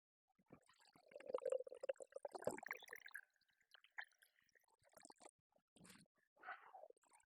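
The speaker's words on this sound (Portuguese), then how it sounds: "Vou usar essa jarrinha para ter a dimensão da água." Water poured from a larger container into a small measuring jug in a home kitchen, a steady trickle and splash with brief drips and a few liquid squishes, close and fairly quiet.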